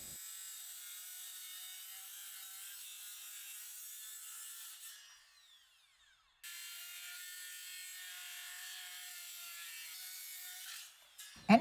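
A hand saw cuts through lumber in long, steady rasping strokes with a brief pause midway, then resumes and ends with a clunk as the cut finishes.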